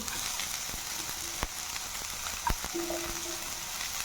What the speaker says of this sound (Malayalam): കുറച്ച് ക്യാപ്സിക്കം, ഇതെല്ലാം കൂടെ നന്നായിട്ട് വഴറ്റുക.